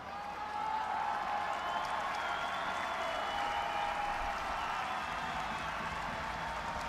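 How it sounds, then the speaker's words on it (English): A distant stadium crowd applauds steadily at a women's Six Nations rugby match between France and Scotland as players leave the field, a faint, continuous wash of clapping with no talk. "The applause you can hear is Gilles Duval leaving the field, and also the skipper Gaël Mignot."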